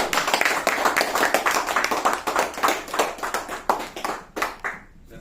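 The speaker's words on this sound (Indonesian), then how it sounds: "Mari kita berikan tepuk tangan meriah untuk Bapak Gemong" A room of people claps for an invited guest from Surabaya, a steady run of sharp, close hand claps that thins out and fades near the end.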